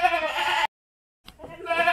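Javanese goats in a raised slatted pen bleat loudly and close by: one long wavering bleat, a short silence, then another begins, with no talking.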